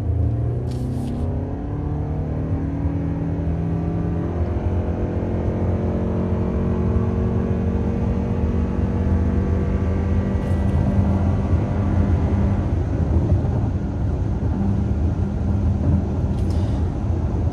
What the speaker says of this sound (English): let's go ahead and open this up full throttle.